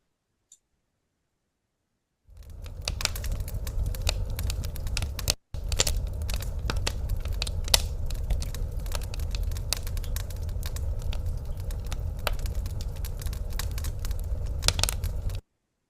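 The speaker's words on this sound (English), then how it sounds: "open fire zen, fire crackling sound" An open wood fire crackles steadily, recorded close for ASMR, with dense sharp pops and snaps over a low rumble, starting after a short silence and broken by one brief gap.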